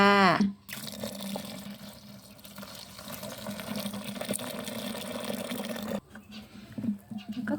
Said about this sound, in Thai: แล้วก็ค่อยๆเทน้ำลงไปจ้า